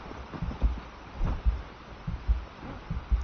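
A heartbeat from the video game Enshrouded thumps in a steady, low double-beat rhythm, roughly one beat a second, close and muffled with a soft hum underneath.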